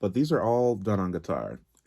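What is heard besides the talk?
No everyday noises stand out.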